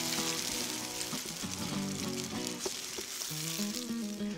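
Tomato mixture fries in an oiled pan for mole coloradito, a steady dense sizzle with soft stirring scrapes running throughout, close and fairly quiet, with no one talking.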